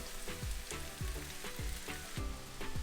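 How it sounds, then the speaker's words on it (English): Handfuls of spinach dropped into a pan of softened onions frying for a vegan dry spinach curry, giving a steady close sizzle with soft rhythmic thumps and stirring scrapes roughly every half second. "We're going to add the spinach by handfuls and wait until it's wilted."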